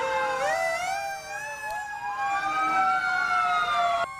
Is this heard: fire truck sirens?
yes